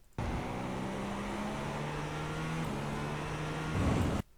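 A GTP prototype race car in iRacing at Algarve, heard as a steady, loud engine drone that holds its pitch, steps slightly mid-clip and rises near the end as the car gets back on the power.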